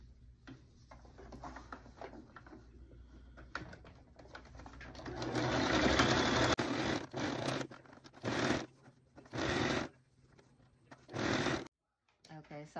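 A sewing machine stitches down the fabric of a car seat canopy bow, first in soft light rattles, then in a louder sustained run, followed by several short separate bursts with pauses between them.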